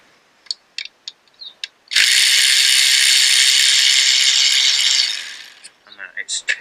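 Ratchet backing out coil pack bolts on a Rover 25 1.4 K-series engine, starting with scattered short clicks and then a loud, close, continuous ratcheting run of about three seconds before trailing off into more quick clicks.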